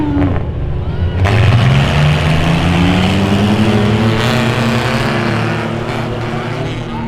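Race trucks accelerating off the start of an ice racing event, loud close engines revving and climbing in pitch together into a sustained roar that slowly fades.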